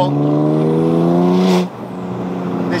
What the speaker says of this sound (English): it sounds like the exhaust just fell off and it's dragging along the floor